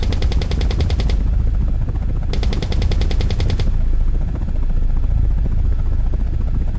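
A helicopter's rapid gun fires at a tank in an attack helicopter video game, two loud sustained machine-gun bursts of about a second each, separated by a pause, all over a steady, thick rotor and engine drone.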